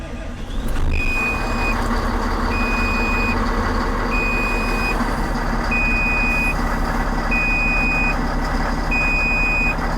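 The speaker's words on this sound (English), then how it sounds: "I'm guessing that's air pressure that's beeping." Steady repeating electronic air pressure warning beep, evenly spaced tones about every second and a half, over a loud idling diesel engine rumble from an HM300 dump truck.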